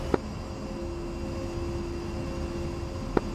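A jet engine runs in the DCS flight simulator game as a steady, faint, even drone with a constant whine, broken by two brief clicks.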